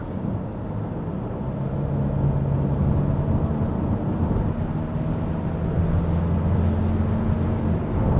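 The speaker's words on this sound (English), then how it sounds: "Rather you hear tire noise coming from the bottom, but it's quite actually very quiet inside." A 2019 Kia Sedona 2.2 diesel driving at night, heard from inside the cabin: steady, low tire and road rumble with a faint engine drone, continuous and fairly subdued, with no talking.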